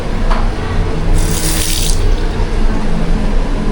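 Loud, steady rushing of a shower running in a resort bathroom fills the space, a continuous spray with a brief brighter hiss partway through.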